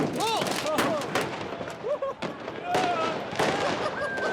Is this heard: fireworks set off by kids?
yes